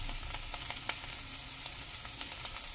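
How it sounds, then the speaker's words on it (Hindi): A soya mixture sautéing in a hot pan gives a continuous close sizzle with faint scattered ticks of stirring, with no voices. "1 मिनट के लिए इसको सौते करेंगे"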